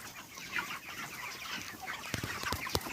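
Broiler chickens on a farm bedded with chopped straw litter cluck in a dense, overlapping chorus, with a few sharper, closer clucks toward the end.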